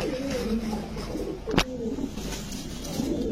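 A big-headed pigeon coos in soft, low repeated phrases close by, against a steady background hum, with a sharp click partway through.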